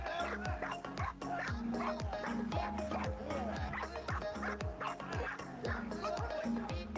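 A Rottweiler guard dog reacting to its owner in danger gives repeated yips, barks and whimpers throughout, with a voice talking over it and a busy, steady background.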